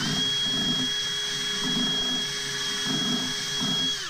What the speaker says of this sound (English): Next, I'm going to clean the pipe threads with my wire wheel.